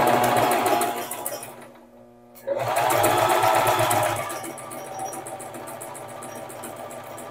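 A sewing machine stitching a waistband onto flat woven fabric, a steady close motor whir with rapid needle chatter, stopping briefly for about half a second, then running again and settling to a slightly softer hum.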